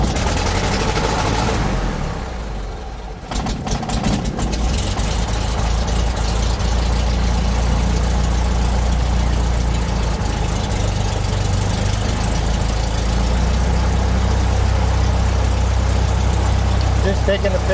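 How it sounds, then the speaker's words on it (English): A Cessna 172 propeller engine coughs to life after a few seconds, then settles into a loud, steady idle with a deep rumble. "Start the engine."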